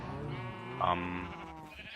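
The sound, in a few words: sheep bleating in a survival video game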